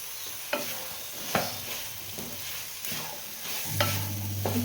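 Boiled turmeric cauliflower is stirred into a sizzling mushroom curry, with a steady fry hiss beneath repeated scraping stirs of the spoon about once a second.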